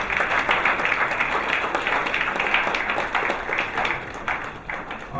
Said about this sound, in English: putting our hands together in welcome for all of us who are here this morning